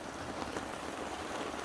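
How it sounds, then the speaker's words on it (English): Steady rain falls across a lake campsite in the Boundary Waters in September, a dense, even hiss of drops on surfaces with no voices. "Yep, still raining"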